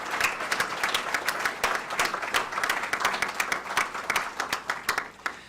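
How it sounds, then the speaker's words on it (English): An audience at a university athletics press conference claps for committee members, a moderate round of applause that runs continuously, then tapers at the end. "Could we give all of them a round of applause"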